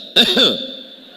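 A single short throaty cough close to the mic, a quick double burst that fades into a faint lingering hum.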